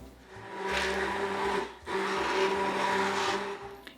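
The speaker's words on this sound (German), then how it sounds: "Und nun bearbeiten wir alles mit dem Pürierstab, das dauert ein Weilchen" A loud immersion blender purees aronia berries and oranges for jam, whirring steadily, its motor pitch wavering as it churns, with a brief dip midway before whirring on.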